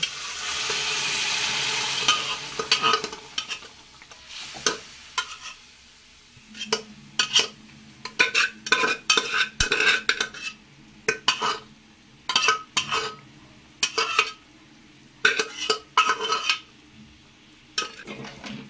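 Boiled banana stem (thor) is stirred and fried with spiced masala in a pan for a vegetarian Bengali curry: a soft sizzle runs throughout, broken by frequent sharp clinks and scrapes of a spatula against the metal.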